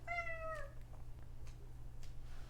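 A female house cat gives one drawn-out, tonal meow at the start, close and clear, then falls silent over a steady low hum in a quiet indoor room.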